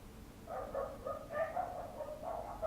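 Several dogs bark and yip repeatedly in another room, faint and somewhat muffled against a quiet indoor background.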